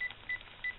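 A stovetop timer gives three short electronic beeps at an even pace, close and clear in a quiet kitchen.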